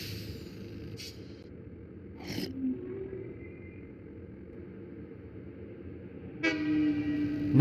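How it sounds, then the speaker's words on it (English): A train horn toots twice, briefly, then a longer rising horn blast near the end, over a steady rumbling engine hum, as a train departs a station in the video game Satisfactory. "Now it started from that train station and will go back to the train station from where it started."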